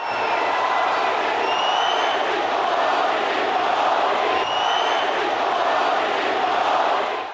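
A large crowd of Indian Americans in an arena, the Nassau Coliseum on Long Island, cheers and chants in a continuous loud roar with rising whoops and shouts throughout.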